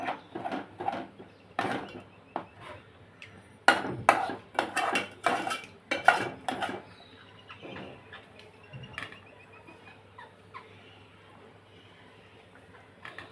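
A utensil stirs a village-style egg curry (anda kalvan) with water in a pot, sharp metallic clinks and scrapes coming in an irregular cluster, then thinning to quieter taps.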